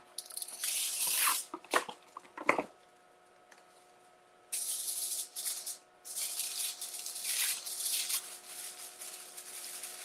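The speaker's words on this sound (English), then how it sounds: "I'll go ahead and put some foil over this just for now." Aluminium foil is pulled and crinkled over a baked dish: bursts of close, bright rustling and crackling with sharp tearing snaps, a quiet pause, then longer crinkling stretches as the foil is pressed down, with no talking.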